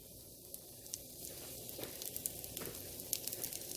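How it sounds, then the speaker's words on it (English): Faint, soft sizzling of an egg frying in a buttered skillet, a quiet steady crackle with occasional small pops. "You see how you can tell the egg is frying right now?"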